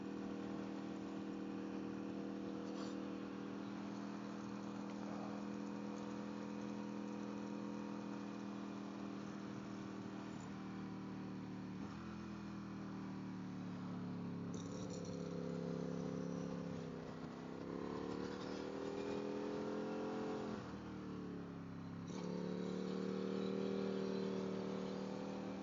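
A steady motorcycle engine hums continuously, its pitch rising and falling slightly as it revs, with no voices over it.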